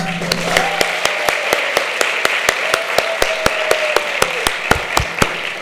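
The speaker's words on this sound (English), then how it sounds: "One last round of applause." A single person claps steadily and fairly loudly at the close of a fall conference talk, about twenty evenly spaced sharp claps, with faint murmuring voices underneath.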